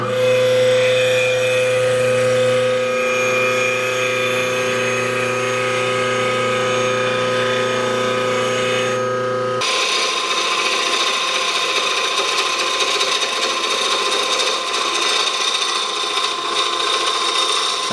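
A wood lathe spins a glued-up, clamped workpiece between centers while a gouge cuts, giving a steady whirring drone with a sudden shift in tone partway through, no voices.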